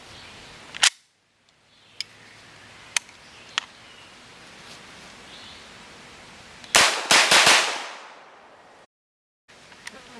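An HK MP5K fitted with a Sig MPX stock fires single shots outdoors, sharp isolated cracks spaced seconds apart, then a quick string of several loud shots close to the listener.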